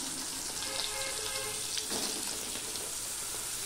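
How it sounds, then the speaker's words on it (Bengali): Cut, washed and drained pointed gourd goes into a pan with a little turmeric, setting off a loud, continuous hissing sizzle that holds steady throughout, close and without talk. "এবার পটলটা যে কেটে ধুয়ে রেখেছি জল ঝরিয়ে সেটা আমি দিয়ে দিচ্ছি।"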